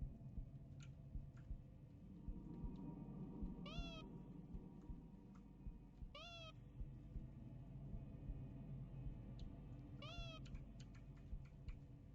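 A cat meows three times, short upward-bending calls spaced a few seconds apart, fairly faint over a steady low rumble and light ticking or typing.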